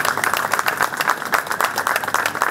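Audience applauding at a political rally meeting with citizens in Chair, a dense, steady wash of many hands clapping close by, continuing without a break for several seconds.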